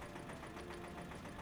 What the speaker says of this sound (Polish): O, jest, wyjechały traktory.